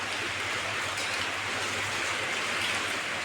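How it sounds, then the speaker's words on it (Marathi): Light rain falls steadily in a soft, even hiss, with a low hum underneath and no voices. "हे बघा जराशी पाऊस पण यायला लागलाय"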